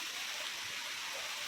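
Water pours steadily down a waterfall beside a mountain trail, a continuous broadband rush with no pauses.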